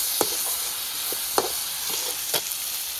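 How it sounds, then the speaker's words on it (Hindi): Freshly picked peas cooking in a pan on a clay wood-fired stove, a soft continuous sizzle with three or four distinct scraping stirs spaced about a second apart, fairly close and without speech. "अब इसको भी अच्छे से पकाएंगे थोड़ी देर।"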